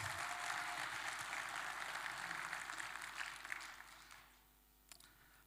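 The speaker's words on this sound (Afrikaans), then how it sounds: "Kan ons vir hulle 'n lekker hande klap gee?" A church congregation at AGS Lofoord Springs gives a round of applause, a moderately faint wash of clapping that holds steady, then tapers off and fades out near the end.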